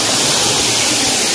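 Water from Bhagirath waterfall at Vangani roars as a loud, continuous wash of rushing noise, close and unbroken for the whole short moment.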